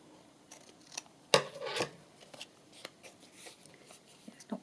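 Scissors trim the edge of a paper page for a handmade Christmas journal. A loud, close snip is followed by a short slicing rasp, then faint rustles and a few light clicks.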